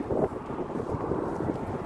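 Strong, cold wind blowing outdoors on a road west of town, a steady rumbling buffet against the microphone, loud and close throughout, with no voices.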